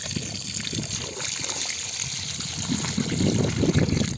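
Water poured into a soil pit prepared for planting, a steady close trickle and splash that swells slightly toward the end.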